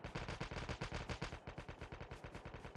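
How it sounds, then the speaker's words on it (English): Rapid automatic gunfire in COD Mobile Battle Royale, a loud, steady stream of close shots in quick regular bursts lasting throughout, with no talk over it. "They're actually shooting."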